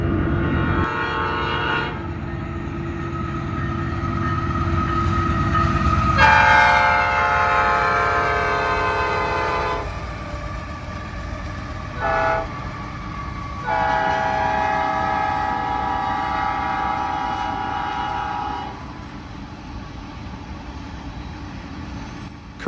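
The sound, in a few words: empty Union Pacific grain train passing by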